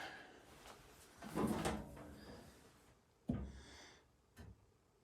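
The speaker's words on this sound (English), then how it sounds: "This closet door, when you open it, does rub on the carpet." A closet door in a house is opened, giving a soft, drawn-out rub as it scrapes along the carpet, followed by a couple of sharp knocks. The sounds are faint and close in an otherwise quiet room.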